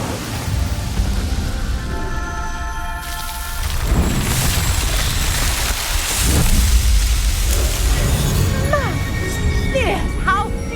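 In Hogwarts Legacy, the Incendio fire spell sets pyres alight with deep whooshing bursts and a continuous crackling roar of flame. Someone talks over the fire, and short bright magical chimes sound near the end.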